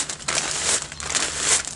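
Thin plastic packaging bag from a smartwatch crinkles and rustles loudly and close up while being handled, with continuous crumpling for a couple of seconds and no talking.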